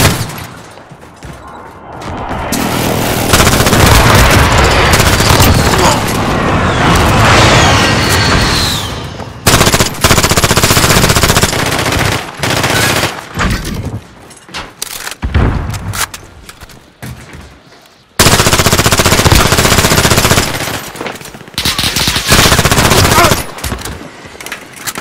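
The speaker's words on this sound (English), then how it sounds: "Friendly sentry gun online. Be advised, friendly precision airstrike inbound." Video game combat with a friendly sentry gun firing and a precision airstrike coming in: loud, dense automatic fire and heavy booms fill most of the stretch, broken by brief near-silent gaps, with game voice callouts mixed in.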